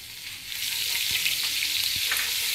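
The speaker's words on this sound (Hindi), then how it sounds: "एक दो सेकंड हमने इसको फ्राई करना है" Ginger garlic paste hitting hot oil for chicken biryani, a sudden bright sizzle that swells and holds steady, with a couple of soft stirring knocks underneath, close up.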